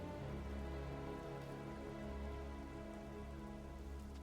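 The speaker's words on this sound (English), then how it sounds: "Getting rained on." Steady rain falls in the video game AI: The Somnium Files, a continuous soft hiss of drops heard over a sustained droning musical score, with no talking.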